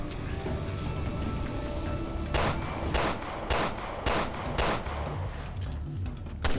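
Rifle gunfire in the video game Resident Evil Revelations 2: several sharp shots ring out in uneven bursts over a steady, rumbling in-game ambience.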